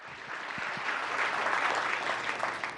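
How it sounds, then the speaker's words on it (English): Audience applause at a town council meeting, a steady wash of many hands clapping at moderate level for the full stretch, with a few louder individual claps near the start. "Can we all just thank these folks with a round of applause?"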